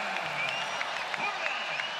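An NBA arena crowd in Orlando roars after an Aaron Gordon dunk, a dense, sustained cheer filling the space while a commentator talks excitedly over it.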